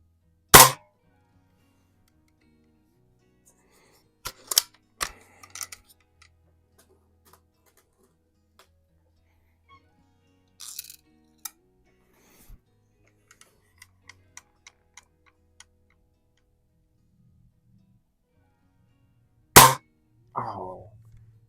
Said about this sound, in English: I flinched that one to the right just as I was squeezing the trigger off